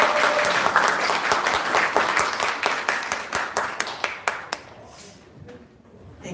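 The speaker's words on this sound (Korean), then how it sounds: "그러면 저희 마지막으로 원장님께 한번 박수 다시 한번." A seated audience at a live talk-salon event applauds loudly in a dense round of clapping that thins into a few last claps and fades to quiet, with some voices under it.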